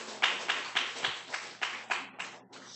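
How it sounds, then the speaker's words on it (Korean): A small church congregation claps at a Wednesday evening worship service, a faint, slow run of about nine distinct, evenly spaced claps heard alone. "박수."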